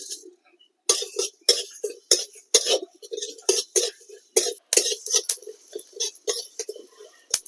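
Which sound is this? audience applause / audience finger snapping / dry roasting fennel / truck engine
dry roasting fennel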